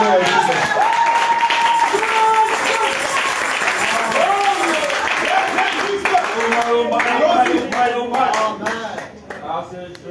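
Church congregation at a Sunday service clapping and applauding in praise, a dense sustained wash of hands mixed with voices, music and shouts across the whole stretch, loud and close.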